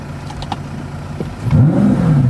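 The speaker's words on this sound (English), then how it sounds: "Try to give it a little rev" A cheap, high-mileage supercar engine is blipped in a short rev after a quiet idle, rising and falling pitch sweeps, fairly loud and close by.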